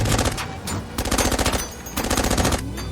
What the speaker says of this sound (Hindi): Sniper fire 11 o'clock।